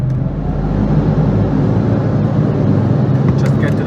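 Audi TT RS MK1 with CEPA engine and stage 1 tune pulling hard through the gears, a loud sustained engine drone with steady rumble heard from inside the car.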